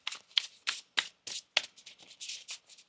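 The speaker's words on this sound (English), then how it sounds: "One more shuffle here." Tarot cards being shuffled give a series of crisp riffling bursts, about a dozen quick slaps and flutters in a loose rhythm, close and fairly quiet with no talk.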